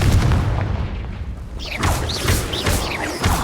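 A Confringo fire spell explodes in the Hogwarts Legacy video game, with a loud booming blast followed by crackling bursts and rumbling debris close up. No voice is heard.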